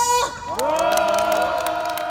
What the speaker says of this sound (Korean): 우리 모두 힘내자고 힘찬 박수와 함성 보내겠습니다